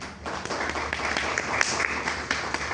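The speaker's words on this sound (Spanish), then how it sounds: "Un aplauso, por favor." Audience applause at a medical lecture on surgical anatomy, welcoming a doctor to the stage, with steady dense clapping throughout at moderate volume and a faint voice underneath.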